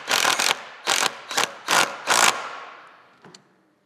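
A ratchet wrench snugs down a screw on the engine guard of an El Diablo Low Rider ST motorcycle, making five quick, loud clicking bursts in an irregular rhythm, then a short faint click after a pause.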